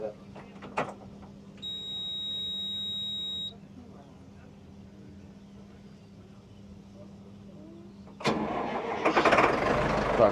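A steady buzzer tone sounds for a couple of seconds inside the quiet cab of a Solis 75 tractor, then its engine cranks and roars to life loudly near the end.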